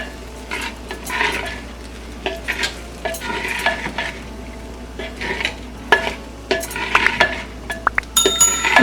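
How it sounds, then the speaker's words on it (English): A spatula stirs egg fried rice with soy sauce in a wok, scraping and tossing in repeated rhythmic strokes over a soft sizzle, with a few metallic clinks near the end; close and clear, no talking. "Add a tablespoon of soy sauce. Give it a good stir."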